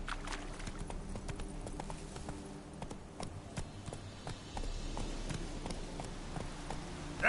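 Geralt's horse Roach trotting in The Witcher 3, steady repeated hoofbeats close and clear for several seconds, with a faint low game ambience underneath and no talk.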